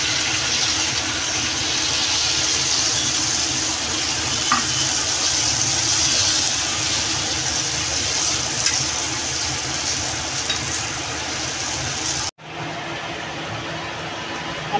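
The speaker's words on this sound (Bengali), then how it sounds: "জল দিয়ে দেবো।" Water hits hot oil in a pan for a katla fish curry with potato and green banana, giving a loud, steady hissing rush close by that cuts off sharply near the end before a quieter simmer; no one speaks.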